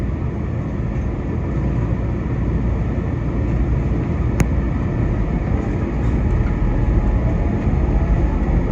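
Market-Frankford Line subway train running between stations, a steady loud rumble and roar of wheels and motors with a brief sharp click partway through.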